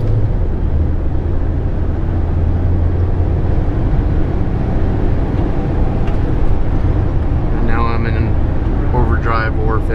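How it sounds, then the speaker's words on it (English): A manual-transmission car pulls away and accelerates through its gears, heard as a continuous loud interior engine and road rumble, with a person talking over it toward the end. "Got the clutch pulled in, let it go, put the gas out, start going through the gears"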